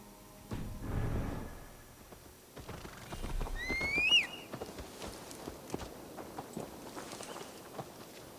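In Assassin's Creed Valhalla, hooves clop on the ground at a walking pace, with a horse whinnying briefly midway, amid soft ambient game sounds.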